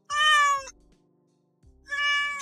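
A pet cat meows loudly twice, close by, with harmonic cries separated by a pause of near silence.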